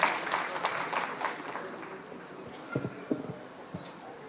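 Applause from a crowd at a trade fair closing ceremony, a broad patter of clapping that is fairly loud at first and then thins out into scattered, fading claps.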